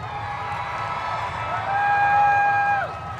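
Crowd cheering and whooping at a demolition derby at the Puyallup Spring Fair, Washington, for car 359, a steady loud roar of many voices swelling toward the end, with a whistle-like tone sliding over the top.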